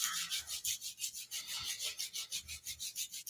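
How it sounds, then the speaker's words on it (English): Palms rubbing together briskly during a Kundalini yoga set, a close, rhythmic swishing friction repeating about every quarter second, alone without talk. "Bring your hands together in front of your heart center and start to rub your palms."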